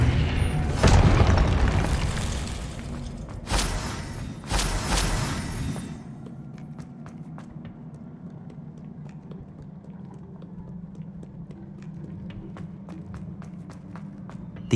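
Spell blasts in Hogwarts Legacy gameplay, where a Confringo fireball explodes: two or three loud, broad booms in the first six seconds, then a low rumbling ambience with scattered faint ticks and small clatters.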